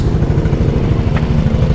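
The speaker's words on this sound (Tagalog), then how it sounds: "Ito yung tunog niya nga pala guys. Ito yung makina niya." A 2024 Yamaha Mio Gear 125 scooter engine runs at a steady idle close by, a low, even putter with rapid regular pulses and no voices.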